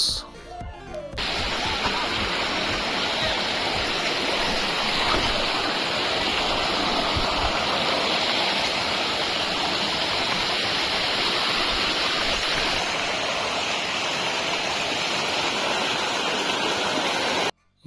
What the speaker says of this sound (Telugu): ఫైనల్గా మేము వాటర్ ఫాల్స్ దగ్గరికి వచ్చేసాము సో ఇదే మన వాటర్ ఫాల్స్